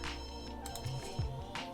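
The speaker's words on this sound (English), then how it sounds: "Please answer that phone." A telephone rings in The Sims 2, sounding as a short, quiet electronic ring pattern that repeats a few times within under two seconds.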